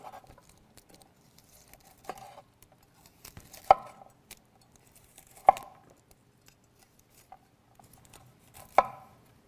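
Knife roughly chopping cauliflower florets on a cutting board, a handful of scattered, irregular thuds, some louder than others, close and with no speech, over a quiet background.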